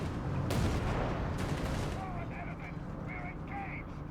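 Heavy artillery barrage in Company of Heroes 3, a dense roar of overlapping blasts with sharp bursts near the start, then a rumbling tail under faint whistling tones.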